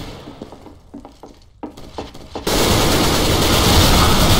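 CS:GO video game gunfire: a few quieter clicks and taps, then a sudden loud, harsh burst of sustained shooting that fills the final couple of seconds.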